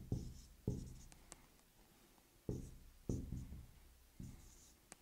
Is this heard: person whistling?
no